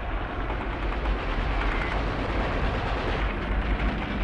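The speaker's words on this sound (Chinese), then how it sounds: "白俄罗斯第一方面军万炮齐轰，打响了这一历史性战役" An artillery barrage from the opening of the Battle of Berlin, heard as a dense, continuous roar of massed gunfire with no gaps between rounds.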